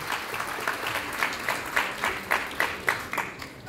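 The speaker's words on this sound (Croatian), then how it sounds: "Pozdravite je još jednim velikim pljeskom." Audience applause for a bride in folk costume at an annual folk-dress concert, steady clapping with rhythmic accented bursts, moderately loud and continuous.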